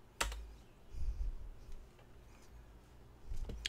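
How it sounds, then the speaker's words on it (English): A few keys are pressed on a computer keyboard while setting up a Raspberry Pi based Bitcoin and Lightning node: soft, close clicks, one near the start and a couple near the end, with a quiet room in between. "So I'm going to type N for no."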